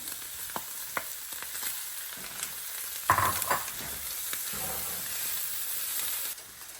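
Shrimp fry in a pan for pineapple shrimp fried rice, giving a steady, fairly quiet sizzle and hiss with occasional clinks and scrapes of stirring, then a sudden drop-off near the end.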